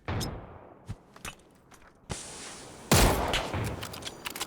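Gunfire in the battle-royale game PUBG: scattered sharp cracks, then two louder, denser stretches of shooting, one bursting in midway and a heavier sustained volley near the end, all fairly close with no talk.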